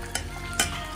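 Onions frying in a pan for Maggi give a constant sizzle, broken by three quick scraping strokes of stirring in a short burst.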